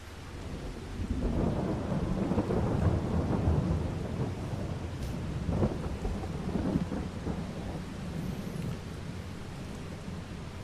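Steady rain hisses throughout while a deep thunder rumble rolls in and lingers, then slowly fades into the continuing downpour, in the video game Farming Simulator 22.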